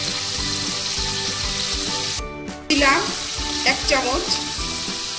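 Chopped ginger tipped into a hot pan with warm water, setting off a loud steady sizzle and bubbling, with a short break before the hiss surges back; someone speaks briefly over it.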